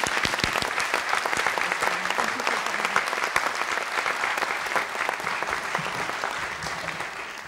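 Loud, sustained applause from a ceremony audience welcoming Dr. Noman Siddiqui to the stage at the 2023 Rite of Passage Ceremony of the Dr. William M. Scholl College of Podiatric Medicine, steady and dense for the whole stretch.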